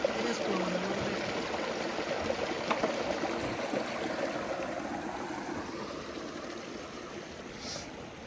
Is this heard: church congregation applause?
no